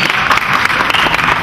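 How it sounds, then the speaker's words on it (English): Audience clapping at a talk on planning versus firefighting, a dense steady patter of many hands filling the room throughout, loud and continuous with no pause. "can you really clap over that?"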